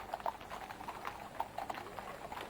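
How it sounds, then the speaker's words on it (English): Horses' hooves clip-clop in a slow, steady procession at a royal funeral in London, many soft overlapping hoofbeats at moderate distance with no band music and a hushed crowd. "just the sound of horses' hooves"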